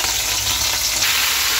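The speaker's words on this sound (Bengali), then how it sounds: "এই যে এদিকে ঝিঙালো ভাজা হচ্ছে" Ridge gourd and potato pieces fry in a pan, producing a steady, close sizzling hiss throughout the short moment with no voices.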